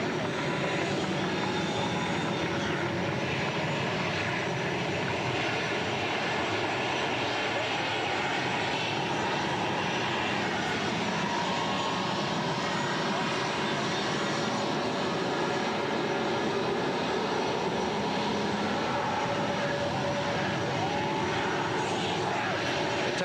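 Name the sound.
A-10 aircraft taxiing at air force base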